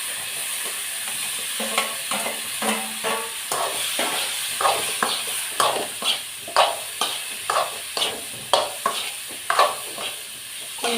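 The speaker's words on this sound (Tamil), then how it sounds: "அதனால் கொஞ்சமாக உப்பு போட்டு மிளகாத்தூள் போட்டு இதை நான் வந்து ஃப்ரை பண்ணி எடுத்துக்கிறேன்." Cauliflower frying with chilli powder and salt, a steady sizzle broken by repeated scraping stirs of a spatula in the pan, alone and close.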